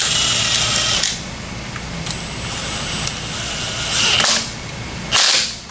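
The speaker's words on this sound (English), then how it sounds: "So let's put these wheels back on. We'll torque the lugs." Power tool driving wheel lug nuts on a lowered Scion FRS in a garage, with a steady whirring drone broken by three loud, short bursts of rattling impact.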